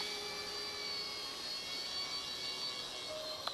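An ERA RC Bell 206 model helicopter flies steadily on its second flight, giving off a continuous high-pitched motor and rotor whine at an even, moderate level with no talking.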